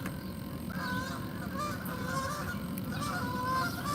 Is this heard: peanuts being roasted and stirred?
no